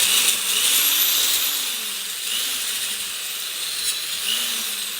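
A power drill runs continuously into a Crosman 1377 air pistol part, a steady high-pitched whir with slight changes in pitch, close and loud with no talking.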